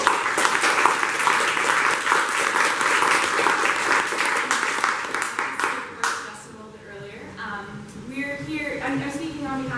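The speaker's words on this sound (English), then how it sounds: "So huge round of applause and thank you." Audience applause at a tech talk event, a dense, sustained wash of clapping from a crowd that thins out after a few seconds as a voice begins speaking.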